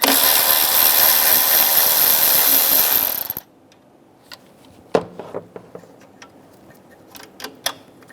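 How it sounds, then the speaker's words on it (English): Socket wrench with a 13mm socket working the nut off the top of the alternator on a 2007-2017 Ford Expedition, sharp ratchet clicks and taps in bursts after a loud steady noise cuts off. "Using a 13mm socket, we're going to remove the nut off the top of the alternator."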